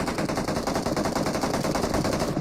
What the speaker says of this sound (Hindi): अब हल्की बहुत गोली चलती है